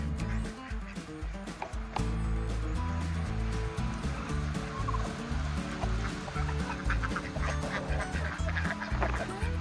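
Ducks quacking repeatedly in a busy, overlapping chorus, with other farm fowl gobbling nearby and a steady wash of outdoor noise underneath, on a farm with chickens.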